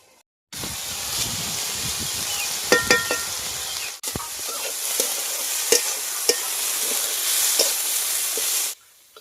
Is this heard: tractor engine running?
no